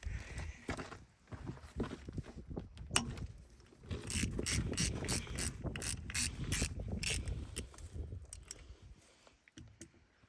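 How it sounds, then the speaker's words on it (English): A ratchet wrench working loose the check plug on the planetary gear hub of a John Deere 333G hydrostatic machine, sounding as quiet, close clicking bursts with clanks of metal tool handling between them. "Now I'm gonna loosen the check plug."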